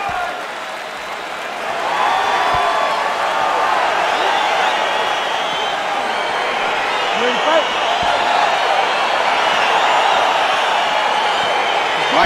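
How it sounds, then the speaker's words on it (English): An arena crowd in the UFC 4 video game cheering and roaring steadily as the Conor McGregor versus Michael Chandler fight gets underway, a broad sustained wash of noise that swells after the first couple of seconds. "All right, crowd getting excited as this fight gets underway."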